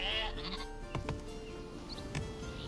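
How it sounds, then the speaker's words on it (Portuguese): Faint sheep bleats from the strategy game Northgard sound over a quiet ambient game background. "Eu esqueci que tinha uma fucking ovelha, mano."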